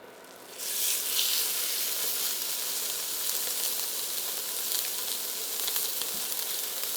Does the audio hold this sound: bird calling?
no